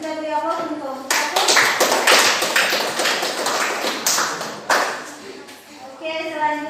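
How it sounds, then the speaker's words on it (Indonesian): An audience at a group presentation claps and taps in a steady burst of applause lasting several seconds, with voices talking before and after it. "Kita beri aplaus untuk kelompok 1."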